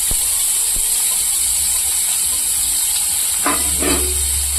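Cumin seeds and finely chopped onion hiss in hot oil, a steady close sizzle with a couple of brief crackling bursts and light pan knocks, no one speaking.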